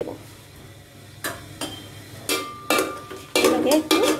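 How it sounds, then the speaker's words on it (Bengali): Cinnamon sticks, bay leaves, cardamom pods and cashews fry in oil in a pot, with a low hiss broken by several sharp scraping and clinking bursts of a spoon stirring against the metal, growing louder and busier toward the end. "এটাকে একটু ভেজে নেব।"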